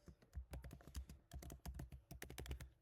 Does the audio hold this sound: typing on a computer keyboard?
yes